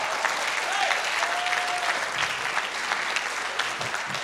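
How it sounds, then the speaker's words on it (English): Church congregation clapping for God, a loud, dense and sustained round of applause with faint voices and a brief tonal sound mixed in. "someone give God a big hand clap"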